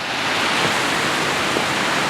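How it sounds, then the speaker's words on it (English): Clackamas Falls at the abandoned Oregon City Waterworks, heard from a log bridge over a ravine: a steady, broadband rushing roar of falling water from a distance, continuous and even with no other sounds. "You got Clackamas Falls over there in the distance."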